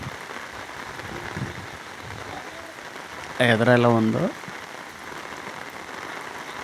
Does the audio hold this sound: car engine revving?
no